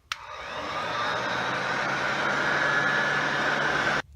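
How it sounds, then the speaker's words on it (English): A Harbor Freight heat gun blows hot air to dry off a Gravely walk-behind tractor engine, a steady close hiss of airflow that switches on abruptly and cuts off just before the end. "Now we're going to use the Harbor Freight hair dryer, the heat gun."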